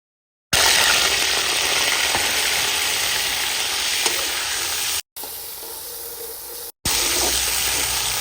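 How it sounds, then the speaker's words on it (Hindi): Onions frying in hot oil in a kadai on a home stove give a steady, close sizzle, briefly broken twice by short cuts of silence. "तो प्याज को हम हल्का सा फ्राई कर लेते हैं।"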